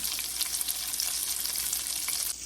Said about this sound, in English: So now we've got our sausages cooking.